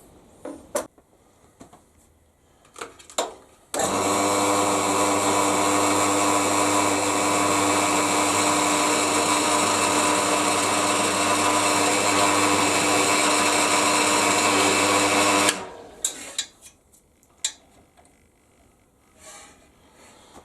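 A steady, loud whine of a power drill boring a 3.5 millimeter hole in wood for about twelve seconds, preceded and followed by small clicks and handling noises.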